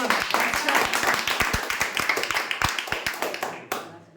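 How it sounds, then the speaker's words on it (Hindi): A room of students applauds a teacher in a burst of dense, even clapping that holds steady for several seconds, then drops away abruptly near the end. "तो ऐसे गुरु के लिए एक बार ताली बनता है"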